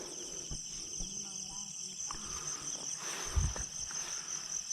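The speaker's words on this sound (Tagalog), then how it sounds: "Pakita lang natin yung mga tipaklong mga idol. Nagsisiak yata yan oh." Insects chirp in the dark outdoors during a nighttime hunt for grasshoppers and spiders, a steady high-pitched trill that runs the whole time, with scattered footsteps and rustling nearby.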